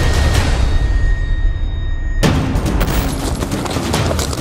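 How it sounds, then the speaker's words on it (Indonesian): Police fire warning shots into the air during a drug raid near railway tracks, a sudden loud crack cutting through dense, noisy outdoor background roughly midway through. "Tembakan peringatan pun terpaksa dilepaskan ke udara untuk mencegah para pelaku penyalahgunaan narkotika ini kabur."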